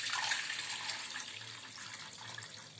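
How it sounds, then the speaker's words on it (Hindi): Water is poured into a kitchen vessel while dahi vada batter is being prepared, giving a steady, soft splashing hiss that tapers slightly over a few seconds, with no talking. "इसमें हम पानी को डालेंगे।"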